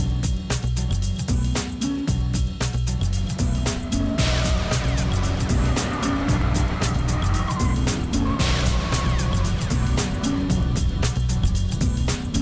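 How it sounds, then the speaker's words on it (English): Classic and contemporary cars lapping a race circuit at a charity track day, a steady loud drone of engines revving and shifting as cars pass close by, with tyre noise and no talking. "classic and contemporary cars driving on the same circuit"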